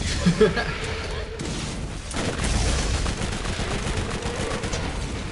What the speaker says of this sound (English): That's my favorite SMG from Borderlands 1, man.